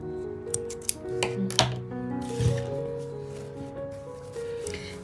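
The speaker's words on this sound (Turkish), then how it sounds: "Ve kesiyorum." Scissors snip through crochet yarn while a small handbag is being made, giving a few short, close crisp cuts at an uneven pace with faint handling rustle between them.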